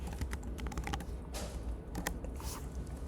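Keys clatter on a computer keyboard during a C programming lecture, a close, steady stream of uneven clicking keystrokes with small pauses and brief louder bursts.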